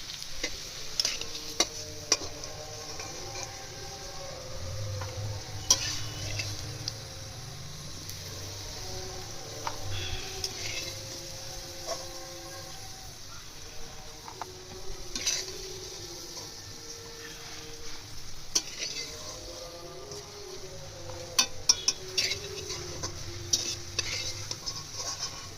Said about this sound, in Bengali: আলুটা ভাজা হয়ে গেছে, আলুটা তুলে নিই, এরপর জিরে সম্বারটা দেবো।